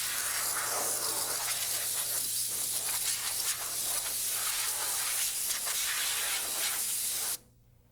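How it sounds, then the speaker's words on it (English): Compressed air blasts steadily into the lower oil bath pan of a Rotorway helicopter, a loud continuous hiss that cuts off abruptly near the end. "blow out the lower oil bath pan to clear it of any dust or debris"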